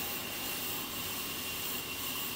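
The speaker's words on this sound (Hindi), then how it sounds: "ये अब लकड़ी की कटाई हो रही है जिससे ये फट्टे तैयार किए जाएंगे।" A sawmill saw (ara machine) driven through a gearbox cuts timber into planks, giving a steady, loud, even whine and grinding roar with no break, close by and with no voices.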